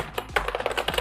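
Rapid keystrokes on a computer keyboard while writing code for a React and Tailwind CSS portfolio site, irregular clicks close up with no voices.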